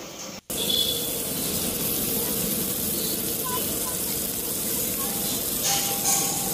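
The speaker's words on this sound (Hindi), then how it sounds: "इसे डालने के बाद में अच्छे तरीके से हाई फ्लेम पे इन सारी सब्जियों को भून लेना है" Mixed vegetables stir-fry on a high flame for street-style Chinese veg fried rice, a loud continuous sizzle and hiss after a brief gap at the start, with some clatter near the end.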